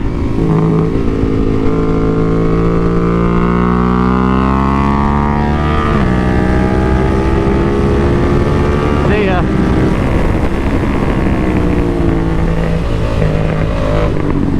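A race motorcycle screams around a track on its first test, its engine loud and close as it revs hard through the gears, pitch climbing and dropping with each shift, nonstop for the whole stretch.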